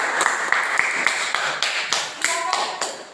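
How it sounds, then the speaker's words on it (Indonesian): Students in a classroom clap in a sharp, rhythmic pattern of distinct claps at moderate loudness. "Tepuk tangan."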